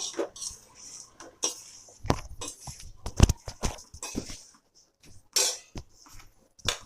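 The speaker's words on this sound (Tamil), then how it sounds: "லைட்டாக சிம்மில் வச்சு அடி பிடிக்காத அளவுக்கு கிண்டி விடுறோம்." A spoon stirs and scrapes egg curry in a pot over a low flame, giving a series of short, distinct metallic clinks and scrapes at an irregular pace, close and fairly quiet.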